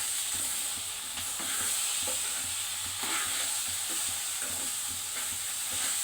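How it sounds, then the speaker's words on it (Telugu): Tomatoes sizzle and fry in a hot pan while tomato dal is cooked and stirred, a steady close hiss with soft scraping stir strokes throughout. "టమాటాలు కూడా వేస్తున్నా ఫ్రెండ్స్"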